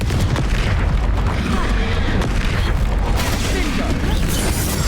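Confringo fire spells explode in Hogwarts Legacy combat against trolls: dense, continuous booming blasts and crackling impacts fill the whole stretch, loud and close, with battle noise layered throughout.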